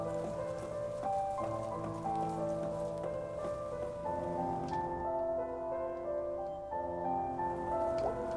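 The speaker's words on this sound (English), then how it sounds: "Oh, it's a very rainy day." Steady rain falling in the video game Night in the Woods, a continuous even patter with layered musical tones running beneath it throughout.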